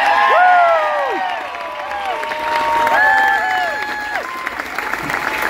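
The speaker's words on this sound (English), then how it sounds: "a huge round of applause for all these women standing up here" A large crowd at the Rose of Tralee contest applauds and cheers with rising whoops and shouts, loud and sustained, swelling and easing across the moment.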